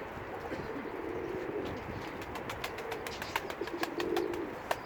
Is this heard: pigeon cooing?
yes